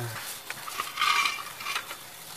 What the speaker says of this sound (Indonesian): sekarang kita haluskan dulu bumbunya